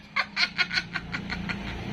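A hen clucks in a quick run of short, soft bursts, fairly close, with a low background hum underneath.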